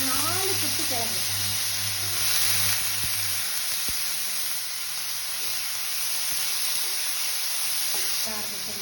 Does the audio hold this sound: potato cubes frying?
yes